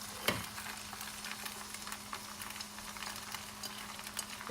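Drunken noodles fry and sizzle in a pan as sauce goes in, a brief clatter at the start giving way to steady hissing crackle with scattered pops, close and fairly quiet.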